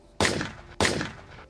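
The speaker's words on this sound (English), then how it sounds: "Without warning, gunfire erupted." Two sharp, loud gunshots about half a second apart, each with a short ringing tail, from a shooting captured by surveillance cameras.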